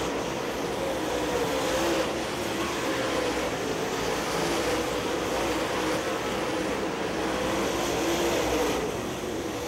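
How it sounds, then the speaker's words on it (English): Race cars roar around the Cleveland Speedway track at night, a steady, loud, continuous engine drone of several cars with slight swells as they pass. "Doing that bottom beating here at the Cleveland Speedway, the coach, David Payne."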